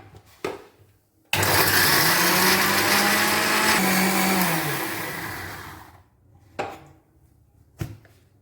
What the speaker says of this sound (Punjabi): ਇਹਨੂੰ ਆਪਾਂ ਮਿਕਸੀ ਵਾਲੇ ਕੱਪ ਦੇ ਵਿੱਚ ਪਾ ਕੇ ਗ੍ਰਾਈਂਡ ਕਰ ਲਵਾਂਗੇ